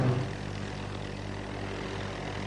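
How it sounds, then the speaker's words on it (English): A steady droning rotor hum from a police helicopter overhead, constant and fairly distant, with no voices. "A police helicopter was overhead in moments"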